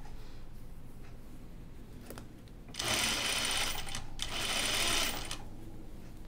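A sewing machine stitches the sleeve seam of a caftan in two loud, steady bursts, each lasting over a second, with a short pause between them and a quiet stretch before the first.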